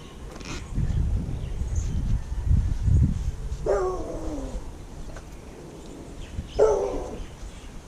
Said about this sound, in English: The dogs are barking because my wife just came home.